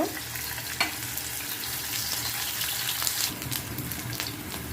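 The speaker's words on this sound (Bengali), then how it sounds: "এখানে আমি একটা আলু এভাবে স্লাইস করে কেটে নিয়েছি এটাকে ভালো করে ভেজে নিব" Thin slices of potato fry in hot oil with a strong, continuous sizzle, broken by the scrape and clatter of stirring in the pan, close up and with no voices.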